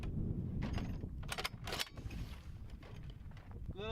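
A flare gun fired at a fridge outdoors, giving a few sharp sudden cracks and bangs among steady background noise, with some rustling movement nearby and no talk.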